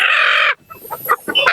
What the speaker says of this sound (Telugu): కోళ్ళు మంచిగానే పెద్దగా ఉన్నాయి కదా?